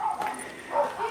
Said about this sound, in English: I recognize his yelping.